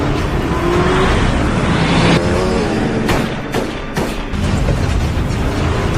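Engines roar during a movie car chase, a loud dense rumble with rising revs, then sharp bangs and crashes and a sudden dip before the engines surge again, no talking.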